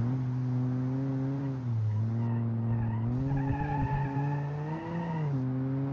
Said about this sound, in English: It will spin the wheels.